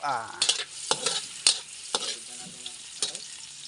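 Onions sautéing in a pan, a steady close sizzle broken by repeated scraping stirs of a utensil at irregular intervals, no talking.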